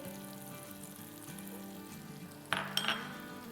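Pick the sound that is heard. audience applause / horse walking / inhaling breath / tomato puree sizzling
tomato puree sizzling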